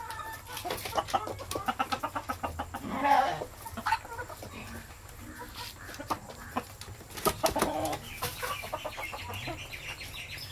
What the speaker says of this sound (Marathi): तुझ्या माग एक कोंबडी आहे